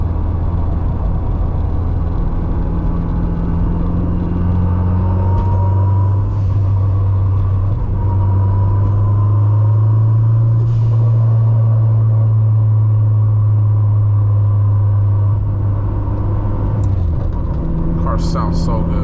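A 600 HP Honda Civic Si engine drones steadily from inside the moving car, a loud low rumble holding through the drive with a faint rise near the end.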